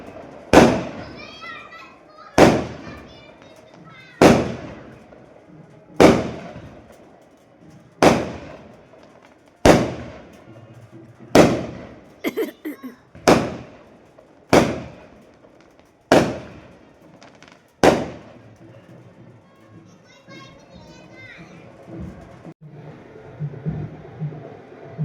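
Firecrackers and fireworks go off at a brother's village wedding, about a dozen sharp booms at roughly two-second intervals, each trailing off, with faint children's voices between the blasts.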